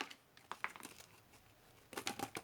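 Decorative washi tape being handled and peeled, giving a few soft crinkling, tearing crackles near the start and a denser burst of crisp rips toward the end, close and fairly quiet.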